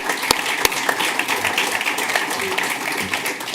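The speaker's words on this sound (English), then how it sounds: "We'll kind of give these guys a quick round of applause because of everything that they do." Council meeting audience gives a quick round of applause for local coaches, a mid-sized room of clapping with a few sharp claps up front and voices murmuring beneath.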